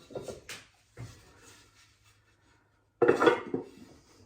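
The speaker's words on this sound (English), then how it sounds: "And then we throw the lid back on." A lid clanks onto a pot holding sourdough bread dough, a few light metallic knocks early on, then a louder clattering settle near the end, with quiet gaps between.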